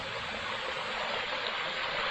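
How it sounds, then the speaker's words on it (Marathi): A natural waterfall at a resort near Kolhapur after the monsoon, a steady dense roar of rushing water, close and constant throughout with no voices. "मागच्या वेळी हा धबधबा नव्हता मागच्या वेळी कोरडं होतं बाजूचा धबधबा आहे"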